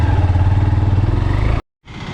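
A parked motorbike's engine idles with a steady low throbbing pulse, loud and close, cutting out abruptly for a moment before resuming.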